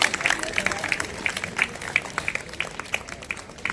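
Scattered applause from an audience at a community honour ceremony, a light patter of clapping that stays moderate and thins toward the end.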